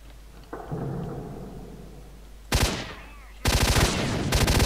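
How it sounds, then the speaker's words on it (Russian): Sharp electronic gauss gun blasts in S.T.A.L.K.E.R.: a sudden crackling discharge with a falling zap, then a sustained loud burst of rapid crackle over a low hum. "О, гаусс-пушка."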